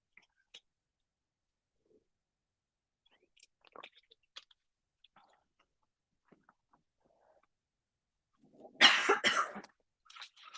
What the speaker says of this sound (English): Trying to cover my ears so you don't hear my cough.